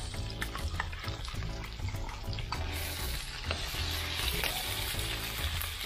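Pork spare ribs fry in a pan for a monggo dish, a soft, quiet sizzle with light stirring scrapes running continuously and no voices.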